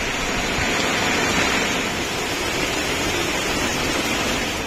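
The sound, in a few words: heavy rainstorm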